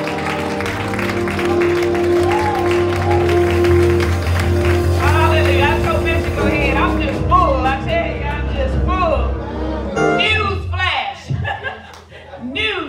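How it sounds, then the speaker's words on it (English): A church congregation claps and cheers in praise during a service, applause and chuckling mixed with loud voices over sustained organ-like music that fades toward the end. "Clap your hand and give God praise."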